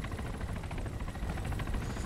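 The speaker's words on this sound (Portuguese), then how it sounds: "eles estão indo com o helicóptero de míssil" A missile-armed helicopter in Arma 3, heard as a steady, dense rotor-and-engine drone with a fast pulsing flutter, moderately loud and constant throughout, with no voices over it.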